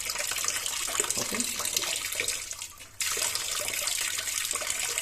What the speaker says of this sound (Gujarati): તમે જોઈ શકો છો કે ફૂલ આખું પાણીનું પ્રેશર ટોટલી આવી રહ્યું છે